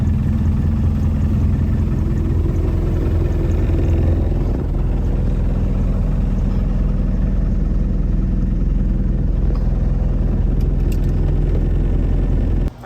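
A 1992 Land Rover Defender 90 engine is heard up close as it is driven and accelerated. Its loud, steady low rumble holds throughout, with throttle raising the drone and no talking.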